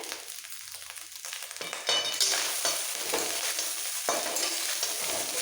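Basmati rice being stirred with sugar in a pan for basanti pulao, steady scraping and soft sizzling with repeated spoon strokes, close and moderately loud, no voices.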